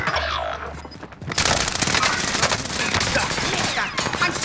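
Dense video game gunfire, with rapid bursts and heavy volleys, rattles loud and close after a brief quieter start, while players talk under the shooting.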